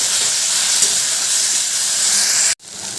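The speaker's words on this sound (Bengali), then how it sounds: "এবার আমি দিয়ে দিচ্ছি ভেজে রাখা আলুগুলো এই মশলার সাথে ভালো করে কষিয়ে নেব" Fried potatoes are sautéed in a spice masala in a pan, giving a loud, close, continuous sizzling hiss that cuts off abruptly near the end and then resumes more softly.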